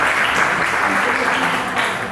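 A church congregation at a Sunday service claps to acclaim the Lord, a dense, continuous round of applause filling the room while someone keeps speaking over it.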